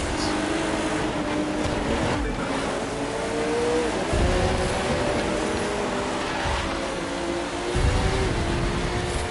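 Nissan R34 Skyline engine in The Crew 2 racing game, a steady loud drone with rising and falling engine tones as the car accelerates through gears, continuous throughout with no talk.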